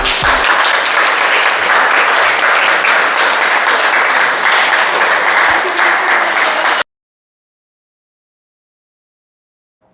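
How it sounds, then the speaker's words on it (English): An audience applauds after a student production, dense sustained clapping heard close and loud for several seconds before it cuts off abruptly into silence. "Please give them a round of applause for that"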